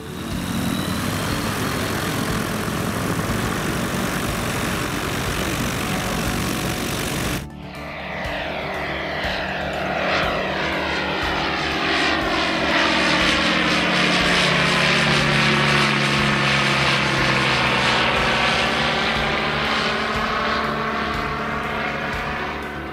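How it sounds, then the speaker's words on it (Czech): Phoenix light aircraft powered by a Rotax 912 combustion engine at Chrudim airfield, its propeller drone loud and steady, shifting abruptly early on, then a sweeping pass as the engine tone bends and fades, with no talking. "vyzkoušeli především typ Phoenix poháněný spalovacím motorem"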